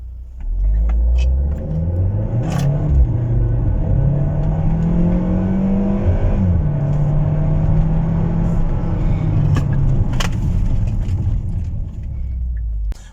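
A Hyundai Tucson Sport DCT, set to automatic rather than sport mode, accelerates hard at full throttle, its engine drone rising and shifting through gears as a loud, steady rumble fills the whole stretch.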